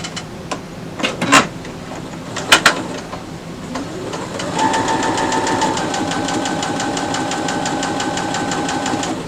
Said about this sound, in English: with a 1/4-inch seam allowance, I'm going to stitch all the way down